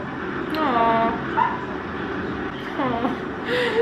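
A dog whimpers and yips with rising, whining cries in a TV drama scene, the sounds coming in two bursts close to the listener over a steady background bed, with some voice-like sound mixed in.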